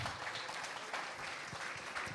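An audience at a stand-up comedy show applauds in a steady, dense burst of clapping that fills the room, moderately loud and continuous, with no talk on top.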